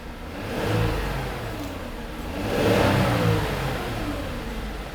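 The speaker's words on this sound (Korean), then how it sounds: "그 다음에 악셀 한번 밟아 보겠습니다" A Genesis G330 Modern AWD sedan with about 50,000 km on it revs twice from idle, each engine swell rising and falling clearly over a steady low rumble, with no talking.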